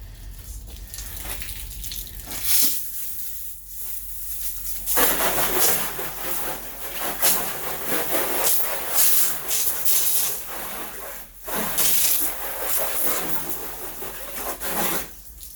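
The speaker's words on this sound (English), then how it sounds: "It ain't perfect conditions, it's not rain, we have a water hose." A water hose sprays onto a freshly detailed car outdoors, a close hissing rush that surges and pauses in bursts, loud and rough-textured, with no talking.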